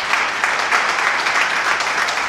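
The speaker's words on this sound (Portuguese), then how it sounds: "Aplauda o nome do Senhor Jesus." A church congregation applauds during a Portuguese-language communion service, dense, even clapping filling the room at full volume throughout, with no voices standing out.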